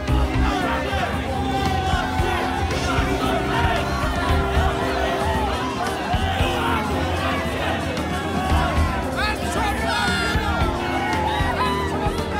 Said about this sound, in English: you can hear there is a chorus of boos and other chants from this Trump crowd here in Tampa, Florida